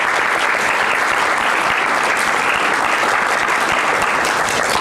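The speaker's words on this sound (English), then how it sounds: "please give a kind round of applause for Juliet." An audience applauds loudly and steadily at the end of a talk, dense clapping filling the room without pause.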